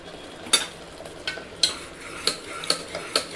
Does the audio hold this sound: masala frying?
yes